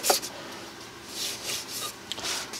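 Sandpaper rubs across a shaped wooden pizza cutter handle as it is rotated, giving a few short raspy scratching strokes, close and moderately loud, with brief pauses between passes.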